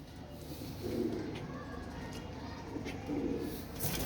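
A breeder's pair of Teddy pigeons coo softly in low, rolling murmurs, two faint coos rising over a quiet background hum.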